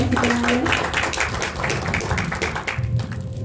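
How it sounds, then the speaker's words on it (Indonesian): An audience at a village program management session applauds, scattered hand claps crackling steadily over a few seconds, with voices audible underneath. "Semuanya tepuk tangan untuk kita semuanya."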